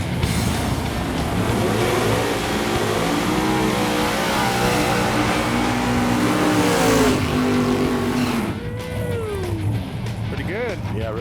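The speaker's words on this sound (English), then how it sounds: "A little combo burnout." A 1970 Chevy Nova with a new motor roars through a combo burnout, its engine revving hard and loud for about eight seconds with rising harmonics, then dropping to a rumbling idle as a few short revs follow.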